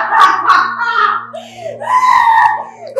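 A person in a Nigerian film screams in long, high, wavering cries that rise and fall, loud and close, with a short break between outbursts.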